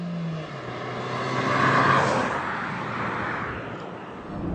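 A 2014 Mazda3 drives along the road with a steady broad engine and tire roar that swells and eases, heard from inside or close by, with no voices.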